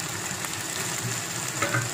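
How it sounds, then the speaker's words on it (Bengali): Potato pieces sauté with spices in a pan for a chicken curry, producing a continuous moderate sizzle with soft stirring scrapes and small clinks near the end, with no voices. "আলু আলুটাকেও আমি ভালোভাবে 5 মিনিট ধরে কষিয়ে নেব।"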